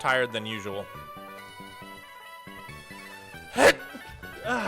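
A single sharp sneeze bursts out near the end, loud and close, following a stretch of calm talk over soft background music.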